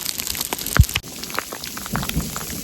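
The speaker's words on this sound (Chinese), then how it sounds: "一瞬间有水滴，是雨吗？ 还是冰线？ 再更大一点，是冰雹啊！" Hail pelting down on an exposed mountain summit during a summer thunderstorm, a dense steady patter of ice pellets striking the ground and gear close by, with a few sharper louder hits and no talking.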